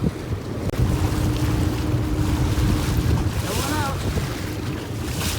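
Wind buffets the microphone over the rumble of a boat moving through rough water on Lake Michigan, with a short spoken phrase near the start.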